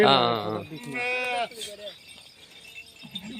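Sheep bleat loudly and close by, several wavering cries in quick succession, followed by quieter background noise and a fainter bleat at the end.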